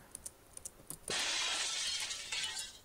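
Glass shatters loudly inside the horror game AliceMare, a sudden crash followed by a long glittering spray of falling shards, preceded by a few faint clicks.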